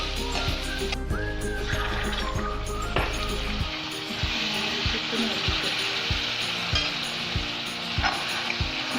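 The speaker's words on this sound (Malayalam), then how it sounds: "അതിന് വേണ്ടി നമുക്കൊരു ശകലം ചൂടുവെള്ളം ആദ്യം ചേർത്തെടുക്കാം" A sharp burst of sizzle comes as hot water goes into a clay pot of frying home-style ginger chicken. Rapid rhythmic scraping and stirring clatter follows, close and clear, and a voice can be heard now and then.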